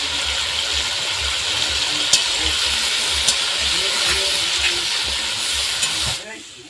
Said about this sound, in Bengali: আমি পাঁচ মিনিট মতো এভাবে লবণ হলুদ দিয়ে কষিয়ে নিলাম